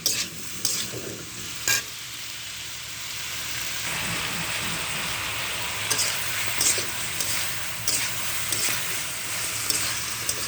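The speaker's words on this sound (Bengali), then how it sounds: "এবার আমি এগুলো নাড়তে থাকবো" Tarul fish and bitter gourd stirred in a frying pan, a steady close sizzle running throughout with sharp scraping strokes of the spoon every second or so.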